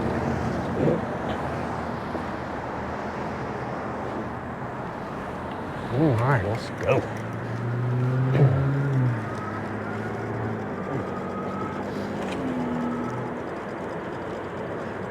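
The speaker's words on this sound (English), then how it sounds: "I tell you, a lot of cars coming" Cars passing in traffic near a roundabout, heard from an e-bike: a steady road rumble with a few louder vehicles swelling past midway, while a rider talks briefly.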